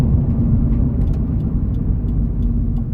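A turbocharged Subaru BRZ/GT86 fitted with a Garrett G25-660 turbo kit driving on the street, a steady low engine drone and road rumble heard from inside, with a few faint ticks above it and no talking.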